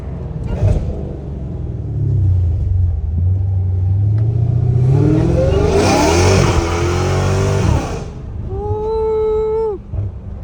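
A Dodge Hellcat Redeye with a fully catless exhaust rumbles loudly and revs hard, its engine note climbing as the tires spin and squeal on rough ground, ending in a rising whine.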